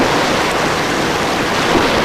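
Ocean waves at the swim start of the 1985 All Ireland Triathlon Championships: a loud, steady broadband roar of surf and rushing water filling the whole stretch, with no voices.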